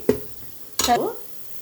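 Spices and tomato frying in a pan for drumstick dal, heard as two short bursts of stirring and sizzling with clinks of a utensil against the pan, separated by a quiet pause.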